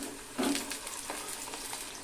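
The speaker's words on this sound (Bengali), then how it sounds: "আলুগুলোকে ভেজে নেওয়ার জন্য এখানে আমি সরিষার তেল দিয়ে দিয়েছি" Potatoes fry in hot mustard oil on high heat as part of a mutton biryani, giving a steady, soft sizzling hiss with a brief louder burst early on. No voices are heard.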